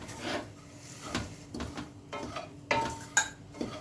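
A spoon scrapes and knocks inside a pan while a semolina, wheat flour and gram flour ladoo mixture with milk and dry fruits is stirred, irregular metallic clinks and scrapes at moderate volume with no talking.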